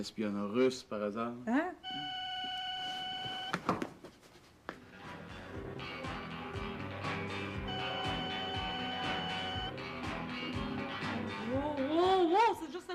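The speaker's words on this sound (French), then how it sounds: "Wow, c'est juste un téléphone!" A telephone rings in bursts of bright, repeated trills that stand out clearly while people talk and react nearby.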